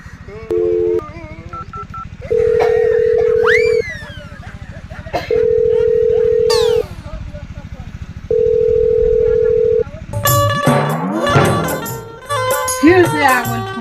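A telephone line sounds repeated steady electronic tone bursts, each lasting about a second and a half with gaps between, as a call goes through in a comedy sketch. A burst of louder, busier sound follows near the end.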